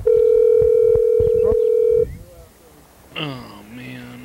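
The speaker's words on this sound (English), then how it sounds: "Danny, gonna answer the phone there?" Outgoing telephone call: a steady, loud ringback tone holds for about two seconds, then cuts off, followed by quiet line noise and a recorded voice.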